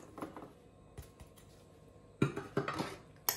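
Corn tipped into a bowl of rice salad with tuna, giving a few clinking knocks of utensil against the bowl, faint and sparse at first, then a cluster of sharper, louder clatters near the end, with no talk.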